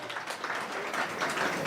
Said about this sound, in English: Let us all give a big round of applause for Hari Shauri Prabhu.